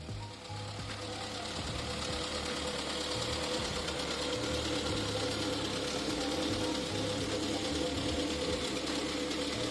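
A 1970 SEAT 850 Especial's small rear-mounted engine runs steadily up close, a rapid buzzing, knocking putter with a rasping note from its short exhaust that holds constant throughout.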